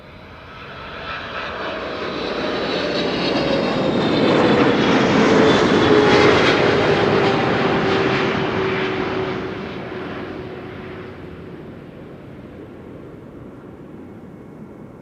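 An 11-year-old airliner passes at Amsterdam Schiphol airport, its engine roar swelling to a loud peak with a falling whine, then fading into a distant rumble.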